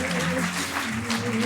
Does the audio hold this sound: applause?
yes